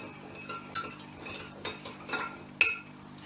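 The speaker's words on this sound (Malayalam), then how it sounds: "ഒരു ആറ് സ്പൂൺ ഷുഗർ ഇട്ടു ശേഷം നമുക്കൊന്ന് ഇളക്കി കൊടുക്കാം" A spoon stirring sugar into a homemade toddy mixture in a vessel, a few soft clinks and scrapes against the sides, with one sharper ringing clink near the end; quiet and close, no talking.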